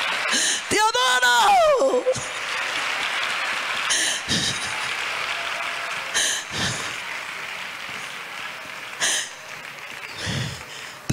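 A church congregation at a women's conference applauds and cheers in a sustained, roomy wash of clapping, with a brief whoop-like voice near the start and scattered shouts rising above the crowd.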